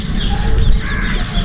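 Birds calling in a remote garden area near a river, with crow-like caws and scattered chirps over a dense, steady outdoor wash, moderately loud and without speech.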